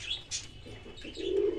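Pigeons in a pigeon loft give soft cooing and small chirps, faint and near, with a low coo swelling at the end and no voices.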